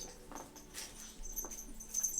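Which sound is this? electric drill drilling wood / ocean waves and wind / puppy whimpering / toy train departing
puppy whimpering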